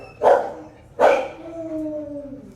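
A dog barks twice in quick succession, loud and close, the second bark trailing into a short howling whine.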